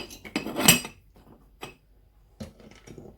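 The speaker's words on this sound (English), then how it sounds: "I'm going to stir." Spoon clinking against a cup while stirring brown sugar into homemade Ghanaian ginger drink, a few close metallic taps and scrapes with quiet gaps between.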